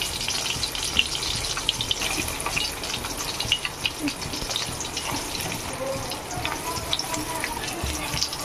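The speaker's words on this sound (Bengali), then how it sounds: "ডিমগুলো দিয়ে ভেজে নেব।" Eggs sizzle in mustard oil in a kadai, a steady crackling hiss with scattered pops that runs continuously at moderate level, with no talk over it.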